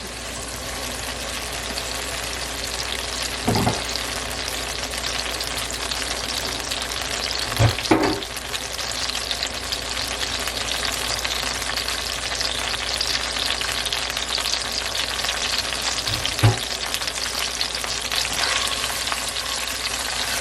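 Onions, tomatoes and saltfish sauté in a pan for ackee and saltfish, a steady close sizzle running throughout with a few brief clanks of a utensil scattered across it.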